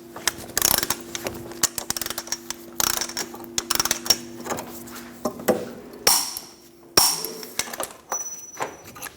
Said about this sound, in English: Torque the axle nut to 181 foot-pounds.